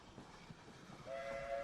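A train sound effect in a stage play of The Wind in the Willows, with a rumbling rail noise and a sustained whistle tone rising in over it, fairly faint and distant.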